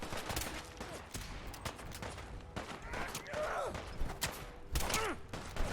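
Gunfire from a gun in the Fallout 4 video game, a series of faint, sharp cracking shots in irregular bursts over busy background game noise.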